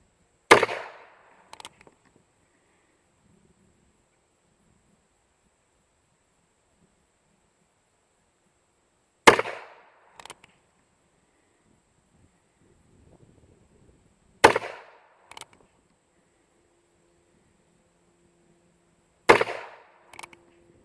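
An old Herters .22 rifle fires four sharp, loud cracks spaced several seconds apart, each followed by a short mechanical clack, with near silence between the shots.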